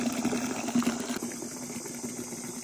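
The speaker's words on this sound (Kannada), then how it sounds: "ನೀರು ತುಂಬಿತು, ಈಗ ಬಟ್ಟೆ ನೆನೆ ಹಾಕೋಣ." Water runs steadily into a bucket being filled for soaking clothes, a close, even hiss and gurgle with a slight change in tone partway through.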